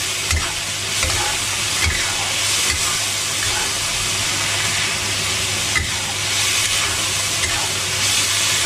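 Oysters stir-fry with spring onion and ginger in a hot pan, giving a loud, steady sizzle and hiss broken by regular scraping knocks of the spatula, with no talking.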